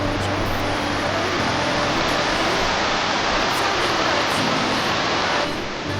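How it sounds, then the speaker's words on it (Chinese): Small waterfalls pour down at Munigou valley in Songpan during rain, giving a loud, constant hissing rush of falling water close by with no break. "到处都是这种小瀑布，感觉很舒服嘞。"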